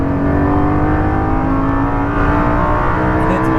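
A Lamborghini Huracan accelerates hard along the straight of a race track, its engine a loud, steady, close roar with dense harmonics that hold throughout, with a brief dip near the middle as it shifts.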